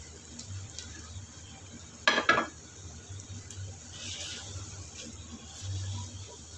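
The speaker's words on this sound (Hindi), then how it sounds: "लहसुन अदरक को 1 मिनट के लिए भून लिया है। अब इसमें गोश्त ऐड करेंगे।" Mutton goes into a pan of fried garlic and ginger with a brief clatter of metal utensils against the pot, followed by faint stirring and low sizzling.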